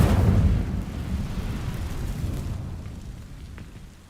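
A fire spell cast in Hogwarts Legacy bursts with a loud, roaring whoosh, then fades into a rumbling crackle of flames over a few seconds, alone without any talk.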